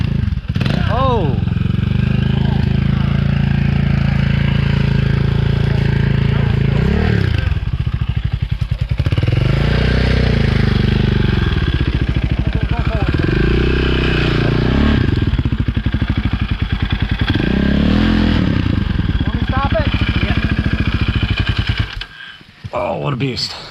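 A KTM 300 two-stroke dirt bike engine revs up and down in repeated rising and falling pulls, close and loud, while riding over tires and up a hill, with outdoor clatter and voices talking.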